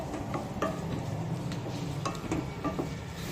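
Onion sautéed in a pan for a sprouted moth bean curry, stirred steadily, with a soft continuous sizzle and irregular spoon scrapes and taps against the pan, close up and with no voices.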